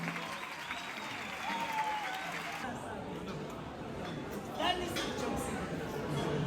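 A crowd applauds steadily, clapping blending into a broad wash of sound with some chatter underneath.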